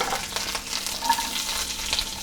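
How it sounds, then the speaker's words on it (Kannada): Onion, garlic, ginger and spices fry in oil in a pan for a South Indian meal, a steady close crackling sizzle with stirring scrapes and no talking. "ಎಲ್ಲನೂ ಒಂಚೂರು ಎಣ್ಣೆ ಬಾಣಲಿಗೆ ಹಾಕಿದ್ದೀನಲ್ಲ ಅದಕ್ಕೆ."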